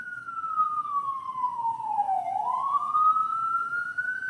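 An emergency vehicle siren passing close by, one long wailing tone that slides down as it goes past and then climbs again, loud over a low rumble of traffic.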